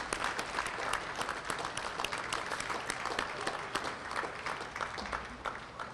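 Steady applause from an audience at a South Coast Rail event in Boston, honoring coalition members; many hands clap continuously at moderate volume with no speech over it.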